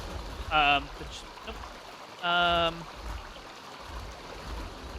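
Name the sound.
waterfall in the video game ARK: Survival Evolved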